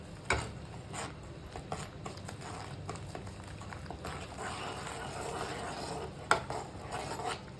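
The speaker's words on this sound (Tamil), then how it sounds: "ரவை போட்டு நல்லா அடி பிடிக்காத கலரிட்டே இருங்க" Spoon scraping and clinking against a pan while thick semolina kesari is stirred, a steady close scratching with a few sharper knocks.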